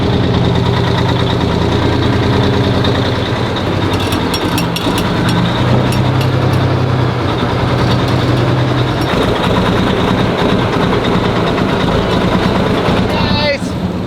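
A junk vehicle's engine idles steadily and loudly throughout, a continuous mid-to-low rumble with faint voices underneath.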